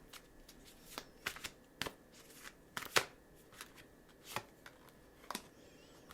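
A deck of tarot cards is shuffled quietly by hand, producing soft irregular slaps and riffling snaps scattered over several seconds against a hushed, close background with no talking.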